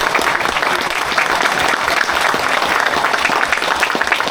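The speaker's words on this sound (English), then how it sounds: "Can we give them a round of applause?" A crowd at a model train social media panel in York bursts into sustained, loud applause, dense clapping filling the space throughout.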